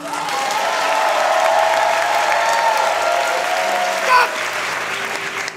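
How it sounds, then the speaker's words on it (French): An audience at an improv show claps loudly and continuously, a dense wash of applause that holds steady throughout, with faint voices briefly rising near the end. "Alors on vous propose d'applaudir très très fort maintenant."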